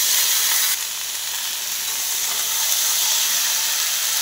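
Figs and fried potatoes dropped into masala frying in hot oil set off a steady, loud sizzle and hiss that swells slightly at the moment they land and then holds evenly throughout.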